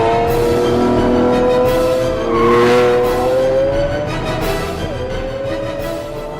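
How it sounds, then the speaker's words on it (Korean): Lamborghini Aventador V12 engine roaring loudly and steadily, with rising and shifting engine tones that swell near the middle and carry through to the end. "최고 회전 속도로 달릴 때 나는 가슴이 뚫리는 듯한 굉음을 냅니다"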